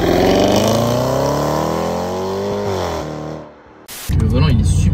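Range Rover Sport SVR engine, a loud, deep roar rising in pitch under hard acceleration, then a sudden lift-off with a brief crackle before the rumble returns.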